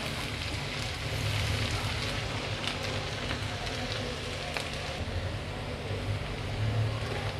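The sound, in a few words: garlic, ginger and onion frying in pan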